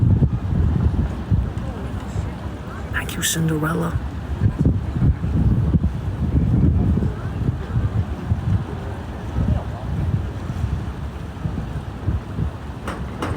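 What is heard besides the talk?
river flowing, heard from a bridge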